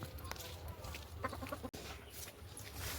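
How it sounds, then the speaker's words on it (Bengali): Chickens cluck in a short, faint burst of irregular calls outdoors in green countryside, heard at a low level with light background noise. "এই দেখো কতগুলো মুরগি"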